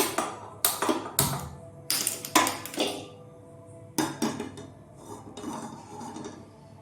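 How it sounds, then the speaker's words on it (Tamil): Several sharp metallic clanks and knocks of a cooking pot being set on a stove, a handful of clustered impacts close by, with quieter rattles in between. "இப்போது ஸ்டவ் ஆன் பண்ணி பாத்திரம் வச்சுக்கலாம்"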